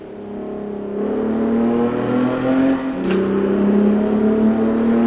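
A race car engine in a sim racing game drones steadily through a warm-up lap, its tone climbing and shifting with throttle and gear changes, loud and continuous with no talking.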